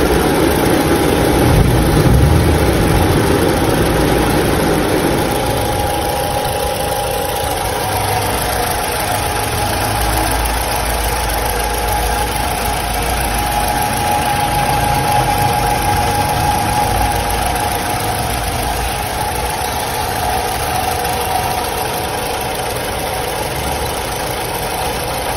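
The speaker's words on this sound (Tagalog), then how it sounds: "gumagana po ang kanyang fan motor dahil mainit na" A Honda City iDSI engine idles steadily with its radiator fan motor running once hot, a continuous near hum and whir with no talk over it.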